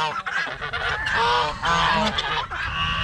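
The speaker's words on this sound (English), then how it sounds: "Ducks." Ducks and geese calling noisily at feeding time in a backyard flock, a close, continuous chorus of honks and quacks.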